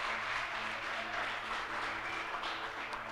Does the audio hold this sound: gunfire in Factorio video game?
no